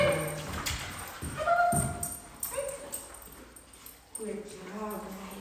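Puppies yip, whimper and bark intermittently during an indoor dog training class, with a trainer's voice talking over and between the dog sounds.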